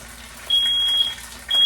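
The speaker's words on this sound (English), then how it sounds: "this fire detector gonna act like me I burned down the place" A smoke detector sounds while breakfast is being cooked: a piercing high electronic tone in two bursts, the first held for about half a second and the second cutting in just after, loud and close over a quiet room.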